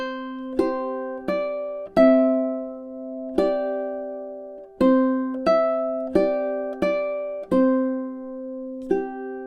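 Ukulele picking measures 11 and 12 of the French folk tune "Au clair de la lune", a steady run of about nine plucked notes, each ringing briefly before the next, close and clear with no voices.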